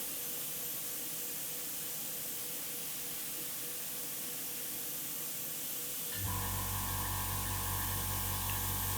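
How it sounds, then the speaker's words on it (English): Airbrush spraying AK Real Color acrylic paint thinned with IPA, a steady soft hiss that turns louder and fuller about two-thirds through as the spray opens up. "airbrushing it."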